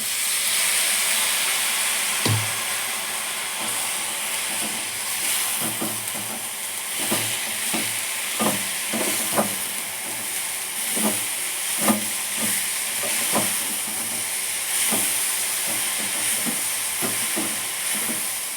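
Sprouted horse gram sizzling in a hot tempering, a continuous close hiss broken by repeated scraping knocks of a spoon stirring the pan.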